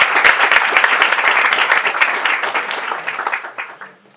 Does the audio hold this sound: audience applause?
yes